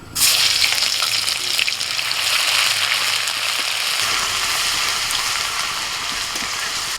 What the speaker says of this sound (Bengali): রসুনটা একটু ভেজে নিয়ে